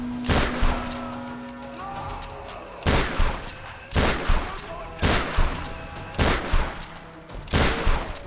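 Shotgun blasts from Tomb Raider come in six loud, separate shots roughly one second apart, each a sharp burst that decays quickly, with faint game music underneath.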